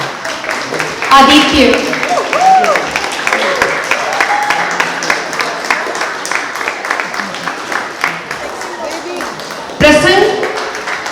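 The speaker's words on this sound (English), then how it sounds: "Don't stop clapping." Audience clapping at a tabla school's annual recital awards distribution in Austin, Texas, steady applause running throughout with a host calling out names over it and brief cheers.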